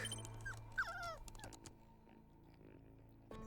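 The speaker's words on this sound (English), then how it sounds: "Oh, I imagine that the poor doggy is hungry, judging by this poor malnourished pup." Hungry, malnourished dog in the video game Tales of the Neon Sea gives a few thin whimpers and yips over a low hum of game ambience, faint and then fading.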